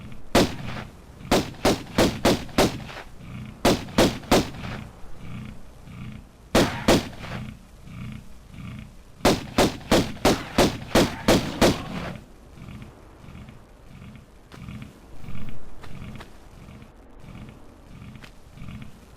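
Lara Croft's guns in Tomb Raider 1's Colosseum level fire at crocodiles in rapid bursts of sharp, loud shots, four or five at a time with short gaps, then a quieter stretch of regular low thuds and grunting between bursts.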